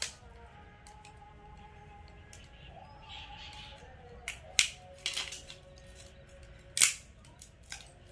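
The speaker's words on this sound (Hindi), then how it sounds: "तो हम क्या करेंगे, प्लास से तोड़ लेंगे।" Pliers snap out the plastic socket openings in an extension board box, giving a few sharp, close cracks spaced apart over a quiet background.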